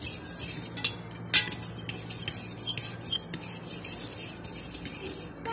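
A spoon stirs yogurt mixed with salt, garam masala, cumin, dried coriander and a little ajwain in a bowl, giving soft scraping and occasional light clinks against the bowl in a steady, close rhythm.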